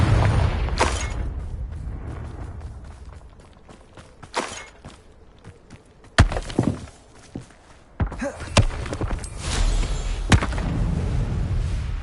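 Confringo fire spell blasts in Hogwarts Legacy, sharp explosive impacts and crackling bursts spaced through combat, with softer thuds and footsteps between them and a louder cluster of blasts toward the end.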